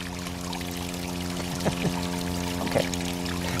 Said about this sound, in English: hears the waterfall in the background